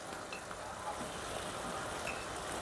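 Prawns fry with spices in a pan for a coconut milk prawn curry, giving a faint, even sizzle that continues steadily throughout with no clear breaks.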